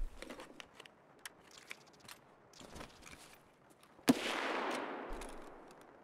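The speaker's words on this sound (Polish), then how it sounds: "Za blisko wystrzał?" Gunfire in a tactical shooter game set in the woods, with a scattering of faint distant shots and footsteps, then one sharp, louder nearby shot followed by a burst of crackling fire.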